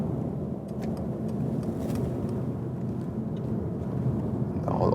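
A Mercedes C-Class coupé sweeps through a fast motorway corner, with steady road and engine rumble heard from inside the cabin and continuous tyre roar throughout.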